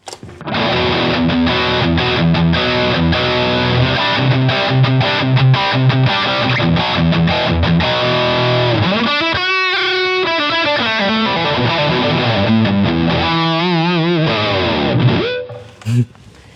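Electric guitar played through an LPD Pedals Mach 1 distortion pedal, a Japanese-designed unit set for heavy gain, gives thick, saturated chords and sustained riffs with very little noise, then fades into a ringing stop.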